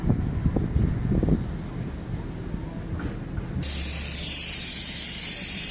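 A gas torch hisses steadily while brazing an air conditioner's refrigerant pipe, with a few rattling handling sounds early on before the hiss grows louder and more sustained.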